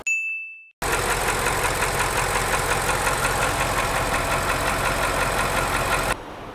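A faulty BMW 750 with the N63 twin-turbo V8, burning about two litres of oil a month and suspected of block or crank bearing damage, idles steadily up close with a fast rhythmic ticking knock, preceded by a short chime.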